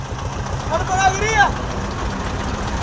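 A Mahindra tractor engine fitted in a four-by-four vehicle idles with a steady low rhythmic chugging throughout, while someone speaks briefly over it.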